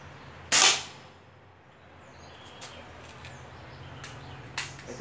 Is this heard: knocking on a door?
no